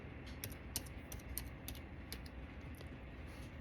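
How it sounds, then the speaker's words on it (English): Rapid, irregular key clicks from typing on a computer keyboard in a legislative briefing setting, steady and close with small bursts of quicker strokes and a faint room hum beneath. "let me type it in here"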